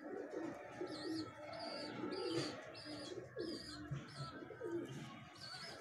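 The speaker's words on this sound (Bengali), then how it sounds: "আরেকটি ব্রিডার নর পায়রা আপনাদেরকে দেখাচ্ছি" Male breeder pigeon with clipped wings cooing indoors at close range, a repeated series of soft, low rolling coos with a few faint chirps in the background.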